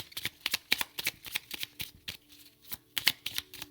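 An oracle card deck being shuffled close up in rapid, steady riffles, a run of crisp papery flutters with a brief pause in the middle.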